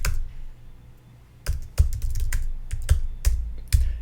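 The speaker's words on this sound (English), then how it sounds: "I'll type it in here." Typing on a computer keyboard, a pause followed by a burst of crisp, close key clicks in an uneven rhythm, with a few heavier key presses standing out.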